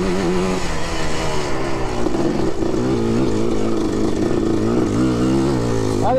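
A Yamaha Blaster 200 quad revs hard while drifting in sand, its engine droning loud and close with a steady buzzing tone that rises and falls as the throttle works, continuous throughout.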